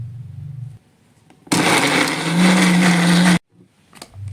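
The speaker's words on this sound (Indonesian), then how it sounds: "blender hingga halus." An electric blender whirs loudly for about two seconds, pulverizing frozen sweet corn kernels with an egg, a steady dense grinding roar that stops abruptly, with quieter kitchen sounds before and after.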